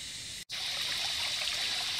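Fresh water trickling along a bush trail, a soft, steady babbling flow heard close and alone, briefly cut by a short dropout near the start.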